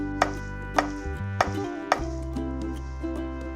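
A knife slicing porcini mushrooms lengthwise on a cutting board, several sharp taps at uneven intervals over a steady humming music bed.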